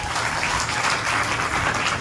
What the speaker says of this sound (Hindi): बजा दो एक बार ताली